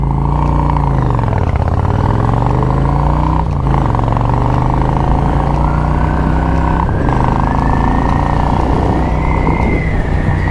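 A motorcycle engine on a stock muffler warms up at idle, its steady loud drone dipping and sagging as it bogs down, then climbing slightly in pitch, close and continuous with no talk.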